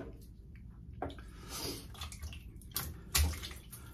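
Tap water runs and splashes while a Semogue Owners Club shaving brush is wetted at a sink before a shave, an uneven close gush with a few louder splashes and drips, no voices.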